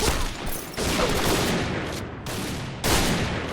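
Rapid bursts of gunfire from a sniper rifle, likely an M200, in the online shooter Point Blank, loud and close, several shots overlapping in dense volleys with brief dips between them.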